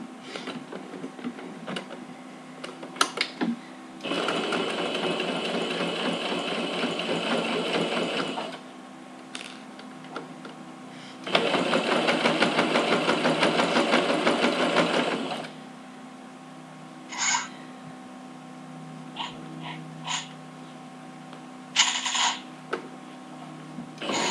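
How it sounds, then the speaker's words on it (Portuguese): Domestic sewing machine stitching the finishing seam on a fabric toiletry bag that folds into a basket, two steady whirring bursts of about four seconds each, with clicks and handling of the fabric between them. "Já podemos ir lá na máquina e passar uma costurinha aqui, fazendo o acabamento."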